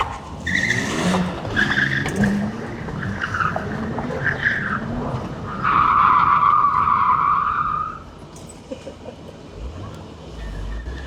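BMW tires squeal in a long, loud skid, preceded by shorter chirps and engine noise, then trail off into quieter rumbling.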